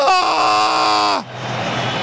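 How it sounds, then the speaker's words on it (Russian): Football stadium crowd yelling as the players run out onto the pitch: one loud, sustained, shrill voice screams close up for about a second, then gives way to a broad, steady roar of many voices. "Все орут, я ору."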